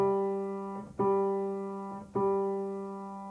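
A single piano note repeats three times at a slow, steady pace, each strike ringing out and fading before the next.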